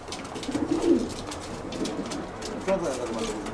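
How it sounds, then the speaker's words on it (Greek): Racing pigeons at a loft give soft, low throaty coos in short bursts, close by, with rustling and handling noise around them and faint voices in the background. "Να τραβήξουμε και λίγο μέσα τα πουλάκια."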